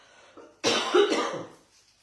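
A single cough from a person, close and fairly loud: a short sharp burst followed by a rougher throaty tail, with quiet before and after and no talking.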